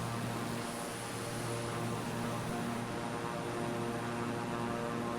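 Airplane engine in MS Flight Simulator, a steady propeller drone with a constant tonal hum, sustained and even throughout with no talking.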